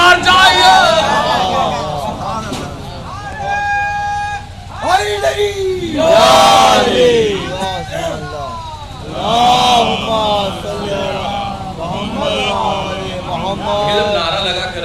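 A large crowd raises a religious chant at a Shia majlis, many voices roaring together in loud, repeated surges with yells rising over a constant babble, close and full for the whole stretch.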